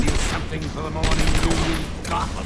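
Loud, dense bursts of rapid automatic gunfire from the video game Batman: Arkham Asylum fill the whole stretch, with a voice talking over the shooting.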